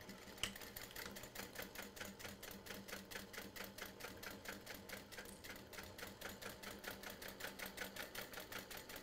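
Sewing machine backstitching a seam on fabric for a portable gaming console case, fast regular rhythmic needle strokes clicking steadily and close, alone without talk.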